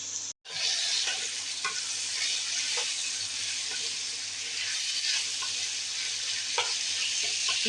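Potatoes and onions are stirred and fried in a pan, making a continuous close sizzle broken by occasional scraping taps of the spatula.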